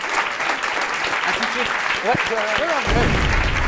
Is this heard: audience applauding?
yes